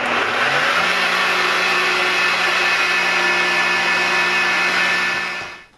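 A blender on medium speed whirs through whole-milk yogurt and sweetened condensed milk, spinning up quickly to a loud, steady motor drone that holds for several seconds before winding down.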